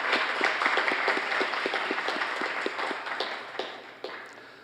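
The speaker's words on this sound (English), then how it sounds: "let's give them a hand" Gala dinner audience at a charity auction giving a warm round of applause, dense clapping close and loud at first, then thinning out and fading over several seconds.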